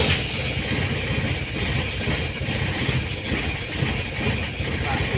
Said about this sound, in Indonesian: sekarang kita coba menghidupkan mobilnya ini